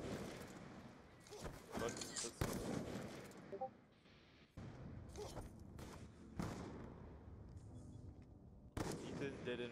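Gunfire in Black Ops 2 on the Plutonium client, during trickshotting on the Carrier map: several loud sharp shots and bursts over game noise, with someone talking between them.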